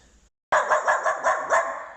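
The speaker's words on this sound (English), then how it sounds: "New puppy." A puppy lets out a short run of high, yappy barks, five or six in quick succession, close and fairly loud after a brief silence.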